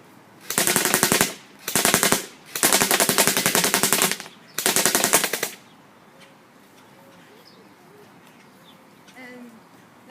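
An airsoft M4 Lancer Tactical Interceptor fires four full-auto bursts in quick succession, each a loud close rapid rattle, followed by quiet outdoor ambience with faint birds.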